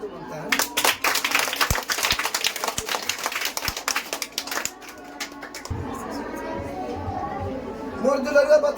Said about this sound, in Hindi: जोरदार ताली तो बनता है।